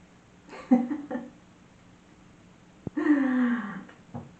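Dogs fighting in a garden: two rough bursts of growling and snarling, one early and a longer, louder one near the end, with a sharp snap between and quiet in the gaps.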